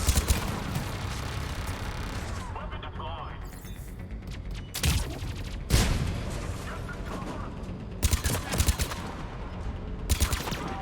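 Turret gunfire in the video game Mass Effect 3 comes in loud, sharp bursts over a constant, dense game soundscape, with brief pauses between volleys.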